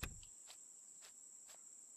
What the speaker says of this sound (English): Nope, those are crickets.